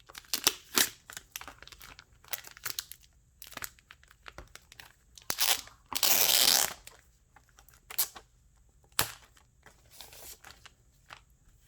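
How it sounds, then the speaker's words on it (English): Small Wacom Intuos CTL4100 drawing tablet unwrapped from plastic wrap, close crinkling and crackling bursts of film with one longer rip-like tear in the middle, scattered rustles between quiet gaps. "So we'll take it out from the plastic wrap."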